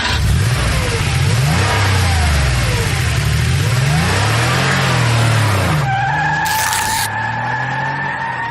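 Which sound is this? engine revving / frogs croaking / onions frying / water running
engine revving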